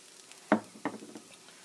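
Spinach and mixed vegetables cooking in a pan with tofu and quinoa nearby: a low steady sizzle broken by two sharp stirring scrapes, close and fairly quiet, with no talk.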